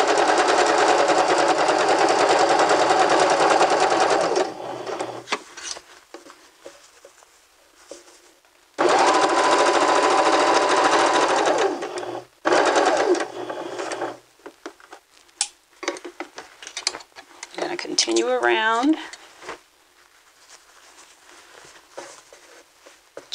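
Sewing machine stitching a neck band on fabric in bursts, two long runs of rapid buzzing stitches split by short pauses, then brief stop-start taps and fabric handling.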